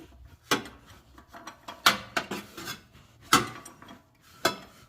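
A wrench cracks loose a 17 mm nut on the power steering hose of a Suzuki Swift/Pontiac Firefly, giving a handful of sharp metallic clicks and scrapes spaced irregularly, close by and with no talk.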